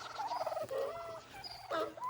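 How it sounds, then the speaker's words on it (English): A flock of turkeys gobbling close by, a burst of rapid rattling warbles that repeats twice over about two seconds, fairly loud and with no talk over it. "Come on, turkeys."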